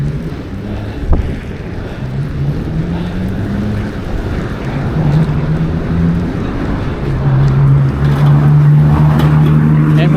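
Strong wind noise rumbles steadily against the microphone during a ride, and a low engine-like drone rises and falls beneath it. A voice talks intermittently over the noise.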